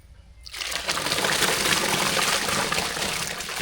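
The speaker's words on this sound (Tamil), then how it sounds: "சாப்பாடு தண்ணி வந்து நல்லா கொதிச்சிட்டு இருக்கு அரிசி சேர்த்துடலாம்" Water rushes into a cooking pot where water is boiling for rice, a sudden loud gushing pour that starts after a brief quiet moment and carries on steadily to the end, with no talk.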